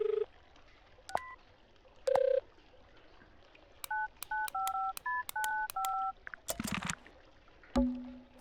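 A cell phone in the video game The Mermaid Mask gives off a string of short, clear dialing beeps in quick succession, preceded by a few isolated tones and followed by a burst of noise.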